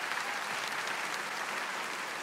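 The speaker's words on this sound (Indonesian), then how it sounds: "kita tepuk tangan yang paling meriah bagi Dia" Continuous applause from a church congregation during an online Easter service, a dense even wash of clapping that stays fairly quiet and steady through the short stretch.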